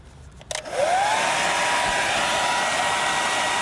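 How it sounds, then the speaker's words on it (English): A hair dryer clicks on and settles into a steady, loud whooshing blow with a high whine, running close by without pause, warming wheel tape on a motorcycle wheel. "This is why I've got the hairdryer."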